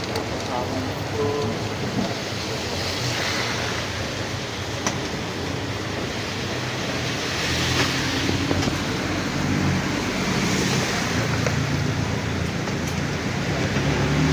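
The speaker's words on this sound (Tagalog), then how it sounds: "Simula na yung bagyo dito ah." A typhoon roars with heavy rain drumming steadily, the wash of water swelling louder partway through and staying dense to the end.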